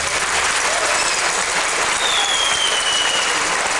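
Sustained, dense applause from a large crowd at a Van folk song concert, steady and loud throughout with no pauses.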